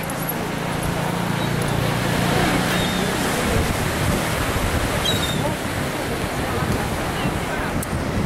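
Surf rolls onto a beach in a continuous broad wash of breaking waves, steady and fairly loud, with gusts of wind rumbling over the microphone.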